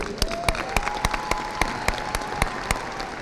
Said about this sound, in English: Big congratulations, big round of applause for our students.